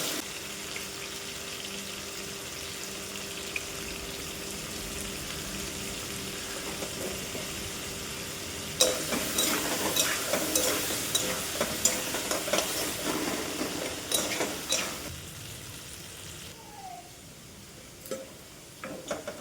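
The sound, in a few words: potatoes frying in oil in a wok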